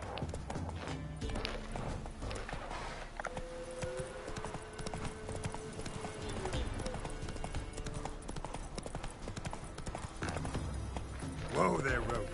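Roach the horse in The Witcher 3 gallops with a fast, steady clip-clop of hooves under game music, while voices talk over it.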